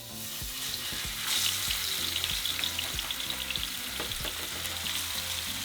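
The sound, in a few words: pork chops searing in hot oil in a frying pan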